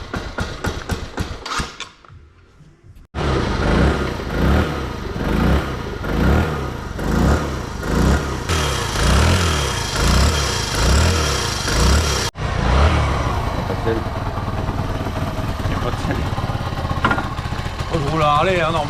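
A small motor, started with a key in freezing winter weather at the Hivernale du Vercors 2025, catches after a few sharp turnover bursts and then runs loudly and steadily with a pulsing idle and revs. Voices talk over it.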